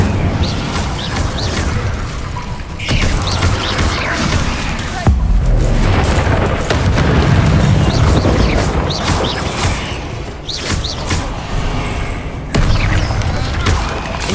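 Fire spell cast in Hogwarts Legacy amid a busy magical battle, with dense booming, thudding and crashing impacts layered over continuous loud combat noise.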